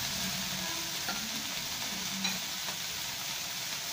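Boiled chicken and broccoli fry in a pan with a steady, close sizzle, punctuated by a few soft stirring scrapes and taps.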